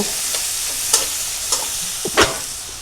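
Green chilies and other ingredients frying in a pan for a Bengali kosha, a steady sizzle with a few sharper scrapes and clatters of stirring, close and alone with no talk.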